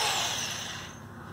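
A hammer drill spins a 1500-watt iSta Breeze i1500 wind turbine on a bench test, giving a loud, steady high whirring whine that slowly eases in pitch and level over a second or so.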